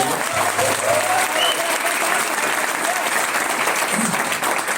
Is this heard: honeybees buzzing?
no